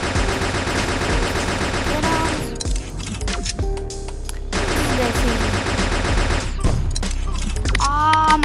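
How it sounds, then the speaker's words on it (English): Alien rifle firing in the Block City Wars video game, with dense rapid bursts of loud automatic shots that come in long stretches broken by short pauses, over a busy layer of game sound. "I bought a new alien rifle and I was just gonna play with it a little"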